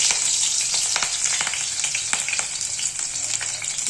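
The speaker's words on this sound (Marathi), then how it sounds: "तेलामध्ये मिरची टाकून घ्यायचे खूप उडतो" Green chillies frying in hot oil in a home kitchen, with a loud, steady high sizzle and frequent sharp spattering pops throughout, close and without talk.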